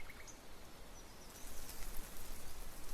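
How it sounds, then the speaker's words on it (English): A rain downpour in the video game The Letter, a dense hiss of falling water that swells louder partway through and continues steadily. "A dreary downpour starts off the Monday."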